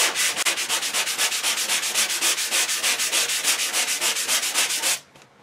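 A sanding block is worked back and forth over body filler on a car body panel in a quick, even rhythm of raspy strokes, close and steady, stopping near the end.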